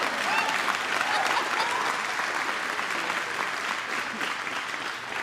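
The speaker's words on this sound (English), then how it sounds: "That's an applause" Sustained applause from a large crowd at the opening event for GM's Factory Zero electric vehicle plant, a steady dense clapping roar that holds for several seconds, with faint voices mixed underneath.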